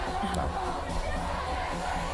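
Moroccan football fans in Doha celebrate a World Cup win over Belgium with a dense, steady crowd roar of distant chanting and cheering, continuous for the whole stretch with no clear single voices.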